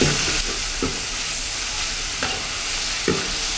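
Chili paste stir-frying in a hot pan, a loud constant sizzle with a few scraping stirs of the spatula spaced through it, close and alone.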